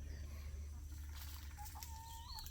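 Chickens and ducks on a farm cluck and call softly, a few brief fowl sounds over low steady background noise with faint speech nearby.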